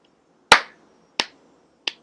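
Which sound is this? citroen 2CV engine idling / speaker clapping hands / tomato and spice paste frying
speaker clapping hands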